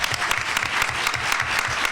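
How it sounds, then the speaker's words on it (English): An audience at a panel on women, violence and gun control gives dense, steady applause that fills the short stretch, many hands clapping evenly close by with no pause. "Let's start off with a round of applause"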